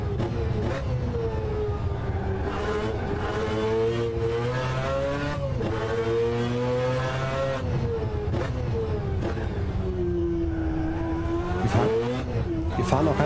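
A simulated race car engine from the 1991 Le Mans legend, in an rFactor 2 practice session at Le Mans, drones loudly and steadily, its pitch rising and falling through repeated gear shifts and revs with no break.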